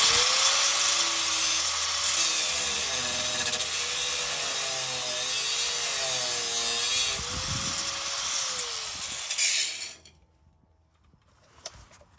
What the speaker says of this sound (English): I'm going to grind this last weld off.